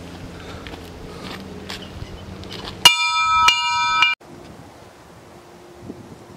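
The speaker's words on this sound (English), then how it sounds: "Ring that bell." A metal bell rings out on a golf course after a par, a sharp clang with a sustained ringing tone lasting about a second, preceded by wind and footsteps outdoors and followed by quiet.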